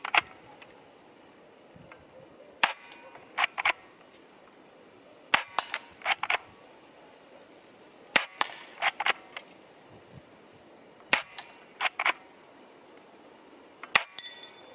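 A Steyr TMP (Double Eagle) firing at 10 metres, sharp sparse reports in short bursts, each followed by a bright metallic ping of rounds striking a metal target, with quiet gaps between shots.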